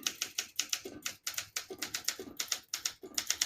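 A 1965 Olympia SM8 portable typewriter types a brisk run of close, sharp key strikes in an uneven rhythm, each a crisp mechanical clack with short pauses between bursts.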